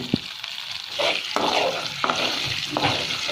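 Chana dal and urad dal frying in hot oil for a coriander-mint chutney tempering, giving a steady close sizzle with a few soft stirring scrapes and clicks, no talking.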